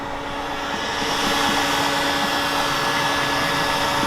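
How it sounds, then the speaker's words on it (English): Varnish is being stripped on a boat with a steady blower-like roar that swells within the first second, then holds loud and constant to the end. "I forgot what a joy it was to strip varnish."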